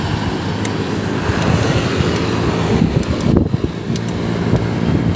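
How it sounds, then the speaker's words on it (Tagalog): Strong sea wind blowing across the microphone on a ride along the coast, a loud continuous rumbling buffet with gusty swells, steady for the whole stretch with no voices. "Diyan maganda magpahangin, ang lakas ng hangin dito"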